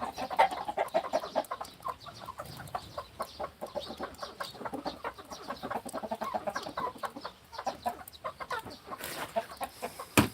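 A flock of chickens clucks continuously up close on a goat farm, overlapping rapid clucks and squawks with no talking.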